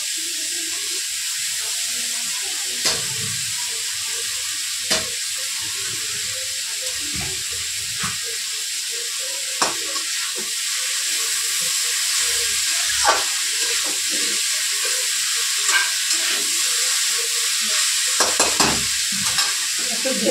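Cabbage stir-fries in a pan for vegetable chow mein: a steady, close, bright sizzling hiss that swells louder midway, punctuated by sharp spatula clicks and scrapes, with no talking.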